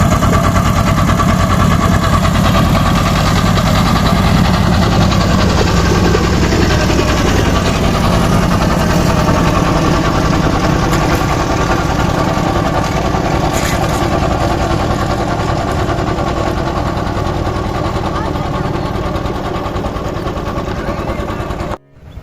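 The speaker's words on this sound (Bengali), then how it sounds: "এই যে নৌকা এখন ছেড়ে গেল নদীর ওপারে।" A shallow-engine wooden river boat motor runs as the boat sets off across a river. It gives a loud, close, steady chugging drone that holds with little change for about twenty seconds.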